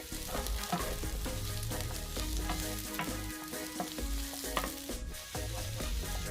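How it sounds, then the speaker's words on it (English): Garlic and mushrooms fry steadily in a hot pan, a continuous sizzle with occasional stirring scrapes running throughout, close and fairly loud with no talking. "add the garlic to the pan, stir and cook for around 5 minutes till translucent. Throw in the mushrooms."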